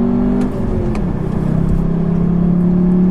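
A Volkswagen Jetta GLI accelerating to merge onto a highway, its engine note climbing steadily in a loud, continuous in-cabin drone, with no talking.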